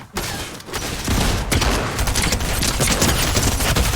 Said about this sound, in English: Bro, this shotgun is actually so bad.